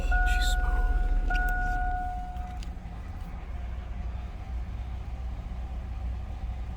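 A Chevy Astro van engine idles smoothly at close range, a steady low rumble that runs through the whole stretch, with a brief chime-like tone over it at the start.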